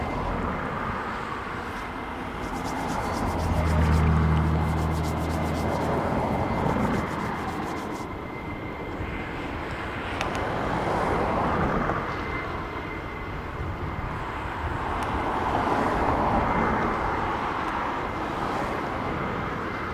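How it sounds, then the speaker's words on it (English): An Atlas Air Boeing 747-400 jet departing, a broad, steady roar of engines that swells and eases gently over about twenty seconds, heard from some distance with no talking. "Raptor X, that was Atlas Air 747 400 off to Chicago."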